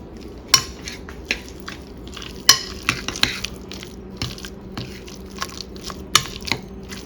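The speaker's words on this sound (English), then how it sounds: "we're just going to mix that together" Mozzarella cheese is stirred together in a bowl with a utensil, giving irregular knocks and scrapes against the bowl and several sharper clinks, close up and with no talking.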